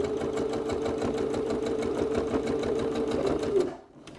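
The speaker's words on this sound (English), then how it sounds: "I'm going to stitch the pocket in half" A sewing machine stitches a pocket on a cosmetic bag, its needle chattering in a fast, even rhythm at close range for about three and a half seconds before stopping abruptly.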